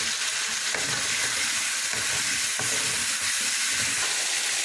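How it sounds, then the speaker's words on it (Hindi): Chicken pieces frying in a pan while a biryani is being cooked, with a loud, continuous hiss and sputter that holds steady throughout, broken by a few faint knocks and stirring sounds, with no voices. "अभी चिकन को हम फ्राई कर रहे हैं।"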